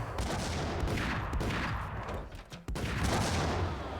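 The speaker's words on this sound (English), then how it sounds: "Let's see if my newfound grenade launcher is of any use." Grenade launcher fire in the Max Payne video game, a dense, loud barrage of rumbling blasts and gunfire that drops out briefly near the end before resuming at full strength.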